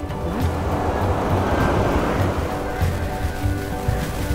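Sea waves washing ashore at Morong Beach in Bataan, a steady broadband surf roar mixed with wind buffeting the microphone, continuous and fairly loud with no clear break between swells.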